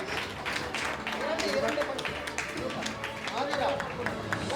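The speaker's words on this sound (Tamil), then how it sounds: "அடுத்து ஆதிராவிற்கு பெரிய கைத்தட்டல்" An audience at a Pongal prize-giving event gives a round of applause, with scattered clapping under a speaking voice throughout.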